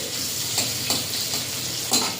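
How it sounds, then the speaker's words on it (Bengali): Chopped onions fry in hot oil in a kadai, a steady close sizzle broken by a few brief stirring scrapes, with no voices. "পেঁয়াজটা এইভাবে ভাজা ভাজা করে নিয়েছি।"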